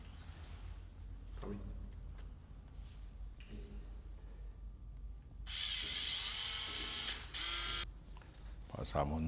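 Screw being driven into an external elbow fixator during surgical assembly, a ratcheting, mechanical whir that swells into a louder stretch midway, heard close up alongside quiet background noise.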